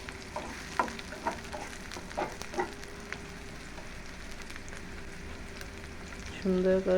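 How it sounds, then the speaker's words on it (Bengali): Onion and garlic frying with black cumin in a pan: a quiet, steady sizzle with scattered scraping taps of a spatula, close by, and a brief louder rattle near the end. "কালো জিরা দিয়ে পেঁয়াজ রসুন একসাথে সুন্দর করে"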